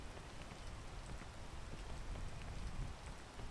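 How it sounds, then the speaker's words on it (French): Rain falls in the climbing video game PEAK, a dense, steady patter of drops on surfaces, close and continuous, with no voices over it. "bah il pleut"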